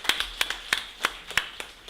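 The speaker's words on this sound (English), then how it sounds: "Give him a round of applause." A few people at a convention opening session clap their hands in a sparse, uneven patter of about a dozen sharp claps, close and moderately loud, with no voices over them.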